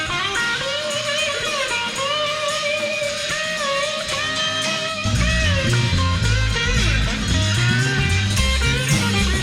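Full studio mix of a song, electric guitar lines weaving over the band, with drums and bass kicking in loudly about halfway through.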